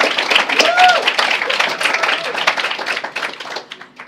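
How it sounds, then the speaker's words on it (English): An audience at a human relations awards ceremony claps through a hall, with sustained applause under and mixed with nearby voices, tapering off near the end. "Yeah, I don't know who claps, but let's clap."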